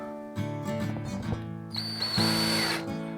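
A power drill fitted with a Phillips bit drives a screw into a guitar wall mount block, whining in short bursts that rise in pitch as the motor spins up, close and fairly loud.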